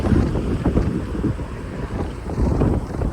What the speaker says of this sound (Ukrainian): І прям вітер просто здуває.